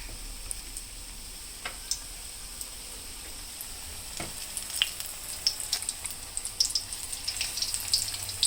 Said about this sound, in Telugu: అప్పుడు కాగినాక ఈ పచ్చిమిరకాయలు ముంచి దాంట్లో వేయాలి.